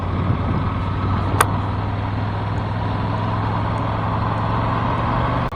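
A Ducati Monster 797 motorcycle ridden along a road in Cornwall toward the Tamar bridge, its engine a loud, steady drone mixed with rushing wind noise and no talking.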